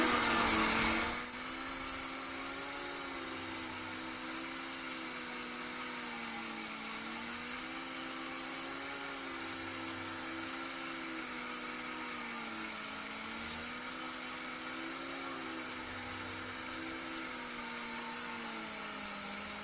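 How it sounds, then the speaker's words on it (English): Portable Millhog machining tool cutting 10-inch Schedule 40 304 stainless steel pipe dry, without cutting fluid, pulling a heavy chip: a steady, close mechanical whine with a slowly wavering pitch, droning continuously after a brief opening burst. "For this 304 stainless steel 10-inch Schedule 40 pipe, the operator has the control to pull a thick, heavy chip without cutting fluids."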